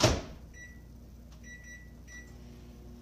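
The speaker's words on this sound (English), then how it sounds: "we're gonna microwave this for 9 minutes" Microwave oven running on high with a turntable, a steady low hum and fan drone throughout with faint intermittent high tones, after a brief thump at the start; no talking.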